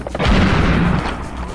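A heavy cannon fires in the first-person shooter Serious Sam HD, a single loud, booming blast with a rumbling tail that fades over about a second, close and alone.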